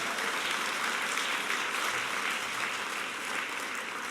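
Audience at an awards gala applauding, an even, sustained wash of many hands clapping at moderate distance with no pauses.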